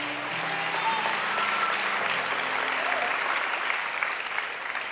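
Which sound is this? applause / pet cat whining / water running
applause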